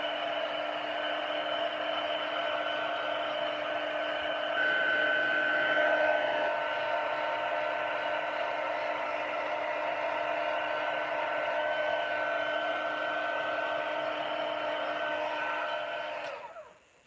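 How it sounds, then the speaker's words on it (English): A heat gun blows steadily for about sixteen seconds, a loud, even hiss with a constant motor whine, used on a paper craft project with ink and stamps, then cuts off abruptly at the end. "going to just give this a wee blast with this heat gun"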